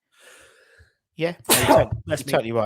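A single sharp sneeze from one person in a conversation, followed right away by someone speaking.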